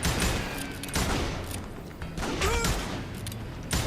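Gunfire from a Wild West shootout in the video game Call of Juarez: Gunslinger, set at a camp outside Parachute, Colorado: a steady, dense barrage of shots rattles on without pause, with occasional metallic creaks mixed into the clatter.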